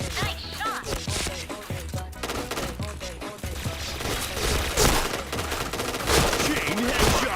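Rapid gunfire from a video game shooter, dense bursts of repeated shots running nearly continuously and loudly throughout.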